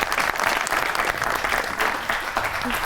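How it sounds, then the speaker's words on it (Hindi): Enthusiastic studio audience applause at a TV talk show, loud and steady clapping from a crowd that holds for the whole stretch without letting up. "बहुत सी तालियां होनी चाहिए मुफ्ती साहब के लिए"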